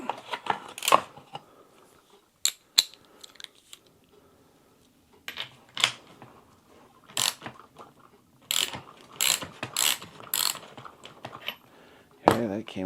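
Metallic clicking, ratcheting and clattering as a bolt is worked off a Mossberg 940 JM Pro shotgun, irregular close handling sounds in short bursts with quiet gaps.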